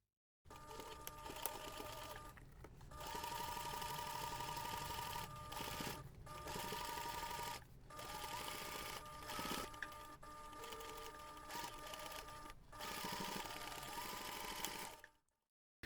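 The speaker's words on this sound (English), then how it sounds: "you're going to take this to the machine and top stitch along that finished seam" A sewing machine topstitches along a finished seam on a laptop bag, running steadily and close for most of the stretch with a few brief pauses, no voices over it.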